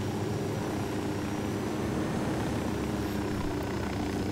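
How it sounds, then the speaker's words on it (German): A helicopter in the video game Ghost Recon Wildlands gives off a constant droning rotor and engine hum, steady and moderately loud throughout with no voices. "Da drüben ist ein Helikopter, der schießen kann."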